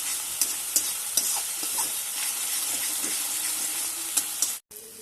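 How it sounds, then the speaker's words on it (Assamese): Spice paste with fermented dried fish frying and being stirred in a pan, a steady close sizzle with scraping stir strokes and brief clicks, no talking. "এতিয়া এই মছলাখিনি ট'টেলি ড্ৰাই হৈ নোযোৱালৈকে আমি ফ্ৰাই কৰি থাকিম"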